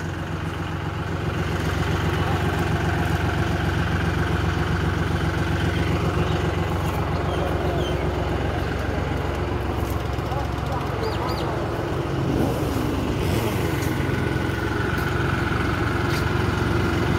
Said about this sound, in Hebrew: הנה טרקטור